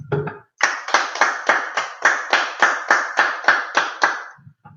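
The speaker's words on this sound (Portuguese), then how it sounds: "Vamos dar uma salva de palmas a Deus." A church congregation claps in steady unison, about a dozen sharp, rhythmic claps close by, with a brief voice at the start and silence after the last clap.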